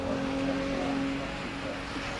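A 12-year-old Subaru Impreza hillclimb car's engine drones steadily at a moderate distance on the Simola hillclimb course, a sustained tone with no voices over it.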